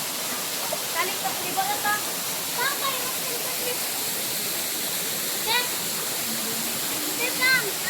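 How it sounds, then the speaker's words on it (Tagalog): Sai Falls roars as a steady, full wash of falling water close by, with a few faint chirps and light calls poking through the constant rush. "Ang tawag sa falls na yan ay Sai Falls."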